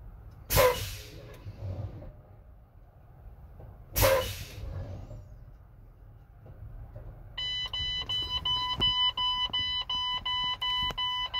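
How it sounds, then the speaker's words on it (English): A steady electronic low air pressure warning buzzer on a truck starts at 61 psi and holds, pulsing evenly, after two sharp hissing bursts of brake air over a low engine rumble. "I see the warning light and I hear the warning buzzer at 61 psi."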